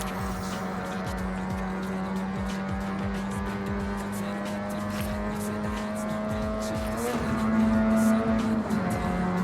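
Car engine in Forza Horizon 6 roaring and echoing through a tunnel, a loud sustained drone with rising tone and repeated reverberant sweeps, building louder toward the end.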